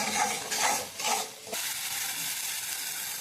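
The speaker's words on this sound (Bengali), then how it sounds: "এগুলো ভালোভাবে নাড়বো।" Turmeric and Kashmiri chili powder frying in oil in a pan, stirred with a spatula in three quick scraping sweeps, then a steady close sizzle, no voices.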